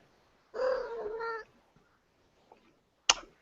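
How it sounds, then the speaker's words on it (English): A house cat meows once in a drawn-out, fairly close call, followed after a pause by a short, sharp second sound; no one talks over it. "See, even the cat agrees."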